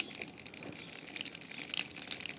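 Water drains from a water dispenser being cleaned, a steady faint gushing and trickling flow heard up close and alone.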